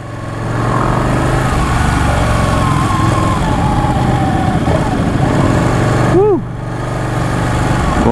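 A Ducati Panigale 899 motorcycle engine on a test ride, loud steady droning with a brief rev change and sweeping pitch rise near the end, with faint wind noise.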